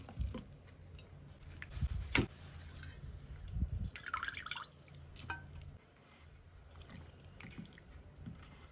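Quiet splashes and drips of water as country chicken is rinsed and squished by hand, with a few louder sloshes in between.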